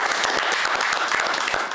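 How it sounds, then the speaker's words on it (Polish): An audience at a theatre awards event applauds the actors of Teatr Trupa, with distinct individual claps audible within a lively, steady round of clapping. "brawa dla wszystkich aktorów Teatru Trupa."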